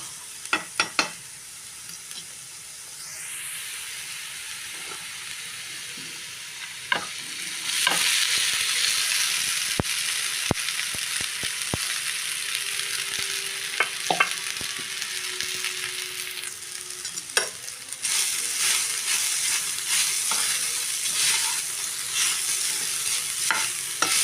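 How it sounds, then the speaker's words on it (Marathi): Potato and soaked sabudana (tapioca pearls) sautéing in a pan for fasting khichdi, a steady sizzle that swells louder partway through, with frequent sharp spatula clanks and scrapes and no talking. "आता बटाटा परतून झाल्यावरती आपण याच्यात घालूयात साबुदाणा"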